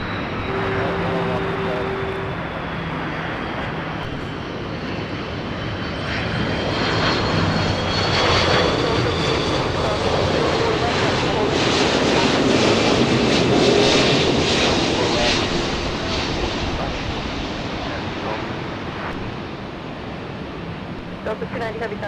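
Jet airliners thunder steadily at the LAX north runway, a loud continuous engine roar that swells and fades as planes take off and land, with no break in the noise.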